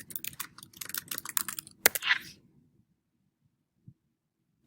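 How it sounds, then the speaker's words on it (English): Rapid keystrokes on a computer keyboard tap out a quick burst of clicks, then a sharp final keypress, followed by near silence and one faint later click. "start typing in an update"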